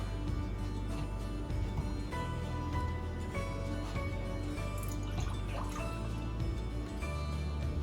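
Oat milk is poured into a measuring cup, a continuous soft liquid trickle and drip heard close up that runs steadily for several seconds, with no talking over it.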